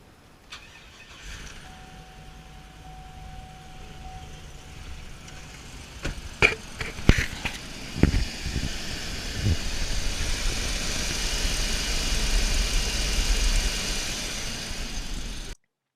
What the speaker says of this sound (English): So start it up and listen. Ideally, a cold start is the best way for checking an engine.